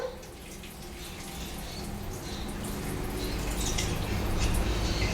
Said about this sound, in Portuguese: Então a gente escorreu a água.